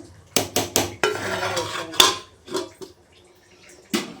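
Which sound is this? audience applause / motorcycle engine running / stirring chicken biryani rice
stirring chicken biryani rice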